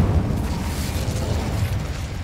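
An Incendio fire spell blasts in Hogwarts Legacy gameplay, a dense low rumbling burst of fiery roar that fills the short moment without any talk.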